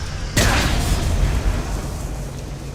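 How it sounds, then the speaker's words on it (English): Video game explosions: a sudden loud boom after a short pause, then a dense rumbling roar of continued blasts that slowly fades, with no talking. "Everything is exploding."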